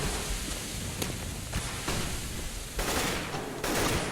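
Gunfire in a Counter-Strike style game at a LAN qualifier match, several sharp bursts of shots at roughly regular intervals over a steady noisy background, fairly loud and close, with no talk.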